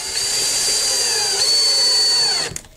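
A power drill drives bolts to fix a DIY bench-mounted soldering fume hood onto a workbench, running as one loud, steady, high whine for over two seconds before cutting off abruptly.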